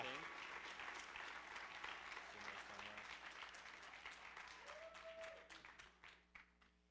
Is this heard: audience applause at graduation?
yes